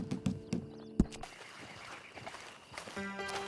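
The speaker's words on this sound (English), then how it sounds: "Then you better get on this horse." A horse in the video game Red Dead Online snorts and whinnies with a few hoof clops near the start, then fades under quiet ambient game sound.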